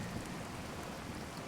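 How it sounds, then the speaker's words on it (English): Steady rain falling in the war game Regiments makes an even, hissing wash of drops that stays constant and fairly quiet throughout, with no voices. "It's rainy weather today in Regiments, and I love the ASMR of like the rain sound."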